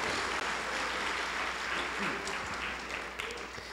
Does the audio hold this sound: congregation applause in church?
yes